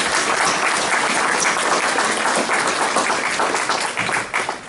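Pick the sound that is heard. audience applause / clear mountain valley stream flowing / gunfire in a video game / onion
audience applause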